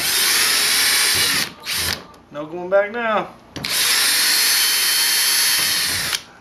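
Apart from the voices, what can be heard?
electric drill drilling holes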